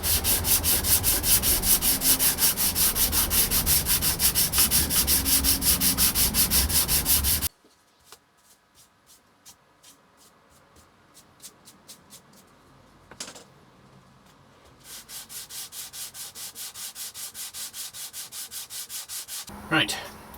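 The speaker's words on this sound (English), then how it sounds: "we've gone back over the whole thing with the sanding block on 150" A primed guitar body is hand-sanded with a sanding block and 150-grit paper, loud rhythmic scraping strokes, then a quieter stretch of light rubbing and taps before the strokes resume.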